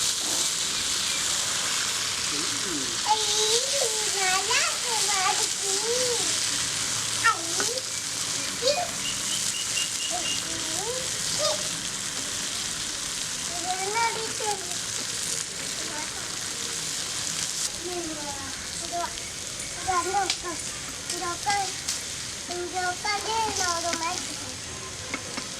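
Thick-cut potato slices fry in oil in a pan, a steady close hiss and sizzle running throughout with occasional stirring and turning, while a voice speaks intermittently over it.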